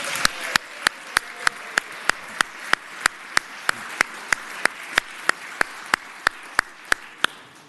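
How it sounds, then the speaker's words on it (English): Applause fills the Virginia Senate chamber, a soft wash of clapping overlaid by sharp, evenly spaced claps that keep a steady beat for nearly eight seconds. "Let's give Olivia Vogel a round of applause."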